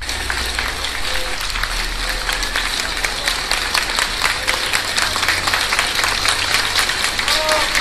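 Spontaneous applause from people at an airport for Spanish rescue brigade workers leaving Mexico, steady dense clapping with crowd murmur and scattered voices throughout, fairly loud and continuous.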